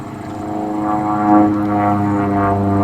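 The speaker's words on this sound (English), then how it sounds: "Had an aerobatic turn here, banking and yanking." An aerobatic propeller airplane drones steadily through a banked turn, its engine note holding loud and close with a slight swell midway as it maneuvers.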